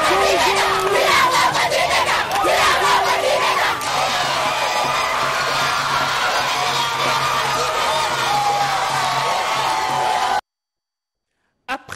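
Large crowd outside Kintambo hospital in Kinshasa cheering and shouting for the president of the DRC, dense loud voices, whoops and calls for about ten seconds before cutting to silence.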